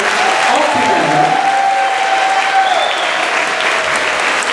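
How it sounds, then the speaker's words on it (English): Loud, sustained applause fills a school hall for 4th graders after their first concert together at an elementary school spring concert, steady throughout with cheers and voices mixed in. "can we get a round of applause for our 4th graders playing their first concert all together?"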